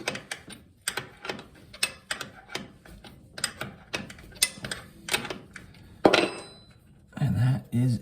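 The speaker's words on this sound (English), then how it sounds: "I'm gonna grab a pry bar, put some pressure underneath of it, and then it'll turn" A pry bar levering and turning a corroded toilet bolt, producing a rapid series of sharp metallic clicks and ratcheting scrapes, close and irregular, ending with a short low rumble of handling noise.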